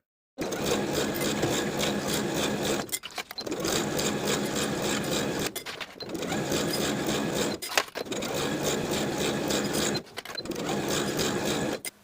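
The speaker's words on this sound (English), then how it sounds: "Then we can edge stitch close to the upper inner fold all the way around to complete the bottom hem." A sewing machine edge stitches close to the upper inner fold of a garment's bottom hem, running in steady bursts of a few seconds with short pauses between, loud and close with no talk.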